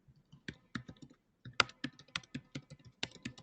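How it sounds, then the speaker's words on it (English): Someone types on a computer keyboard over an unmuted webinar connection: quick, irregular clusters of faint key clicks with short pauses between them, heard alone. "We got somebody that's unmuted because we can hear him typing."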